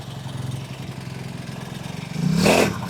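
A cheap $260 Amazon motorcycle engine drones and rattles at full throttle, then swells into a louder revving surge as it starts to move off, close by.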